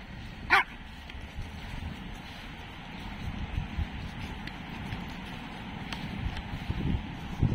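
Dogs bark outdoors with one sharp, fairly close bark followed by scattered fainter barks and yips against a low rumble of wind and background noise.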